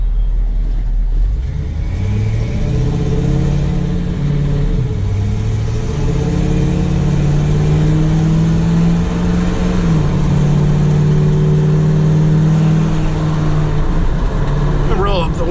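A 1981 Chevy K20 pickup with a 3-speed gearbox pulls away and drives, its engine revving up and dropping back with each gear change in a loud, continuous drone heard from inside the cab.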